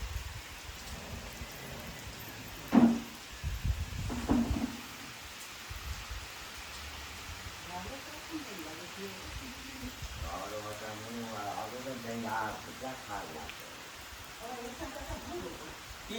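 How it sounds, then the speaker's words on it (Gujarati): Steady morning rain patters in a village, forming a constant hiss with a couple of louder knocks early on. Faint voices talk in the background later. "તો મિત્રો સવારમાં ઉઠ્યા હતા તો વરસાદ ચાલુ છે"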